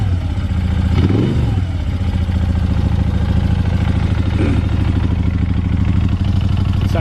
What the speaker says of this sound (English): You can tell you've got a big engine under there.